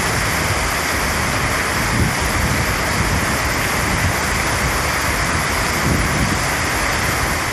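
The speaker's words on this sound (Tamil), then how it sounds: "இடி மின்னலுடன் கூடிய கனமழை பெய்தது" Heavy rain pouring during a thunderstorm in a town, a dense, steady, loud roar with no pauses throughout.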